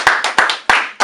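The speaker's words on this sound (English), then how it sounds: "Let's clap it up again." Four sharp hand claps fall at an uneven pace in a basement radio-show studio, each one crisp and close with a short ringing tail, and no voices over them.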